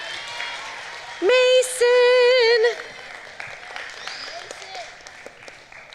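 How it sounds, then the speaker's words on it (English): A chapel congregation claps and cheers, with a loud sustained whoop or shout rising above the crowd partway through, then the clapping fades under a speaking voice. "Getting that kind of applause and encouragement"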